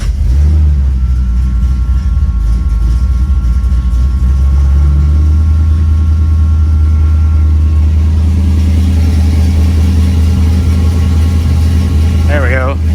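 A 1957 Chevy with Flowmaster mufflers cranks and fires up, then settles into a loud, steady low idle with a few revs, close by, with someone talking over it at times.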